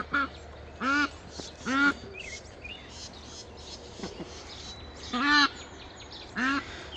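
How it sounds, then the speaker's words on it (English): Ducks quacking in a morning barnyard, five loud harmonic bursts spaced a second or so apart, close by, over a steady low background hum with faint insects. "Enjoy your morning, ducks."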